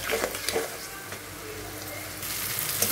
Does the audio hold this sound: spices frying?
yes